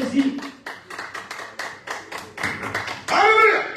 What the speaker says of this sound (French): Can you give a big hand to God?